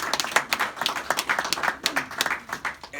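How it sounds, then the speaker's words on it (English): A round of applause at a gospel luncheon, individual hand claps sharp and distinct from a smallish, nearby crowd, rapid and uneven, with no talk over them. "let's have a big round of applause for the Quartet family."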